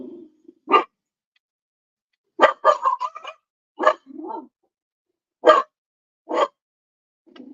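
Dogs bark in short sharp bursts at a neighbor across the street, several distinct barks spaced irregularly with a low whine or growl between them, fairly close and clear against a quiet indoor background.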